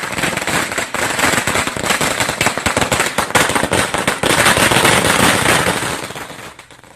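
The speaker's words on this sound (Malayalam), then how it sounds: "സാത്താൻകുളത്ത് നാട്ടുകാർ പടക്കം പൊട്ടിച്ച് ആഘോഷിച്ചു" Firecrackers burst in a rapid, dense volley at a local celebration in Sathankulam, a loud continuous string of sharp cracks that fades out over the last second.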